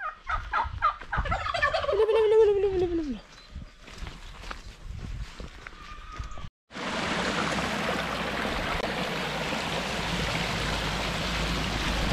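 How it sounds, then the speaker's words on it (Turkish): Turkeys gobble in a burst of loud, rattling calls along the Lycian Way trail in Turkey, followed by quieter sounds and then a steady rush of flowing water. "Bu arada ben ilk defa hindi görüyorum."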